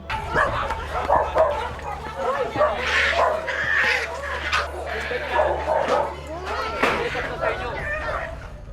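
A dog in a resettlement area in Marikina barks, yips and whimpers continuously and fairly close, mixed with people talking throughout.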